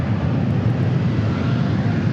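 An airliner departing Dallas/Fort Worth International Airport for Calgary gives off a loud, continuous low engine rumble, close and steady over the brief stretch.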